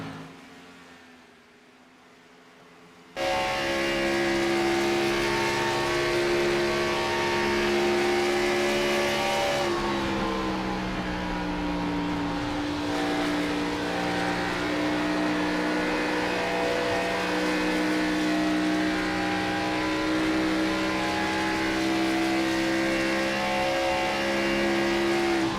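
Onboard sound of a race car in a Saturday night racing event in Texas: near silence, then the engine bursts in loud and sustained, holding a strong droning note with a brief dip and pitch shift before running on.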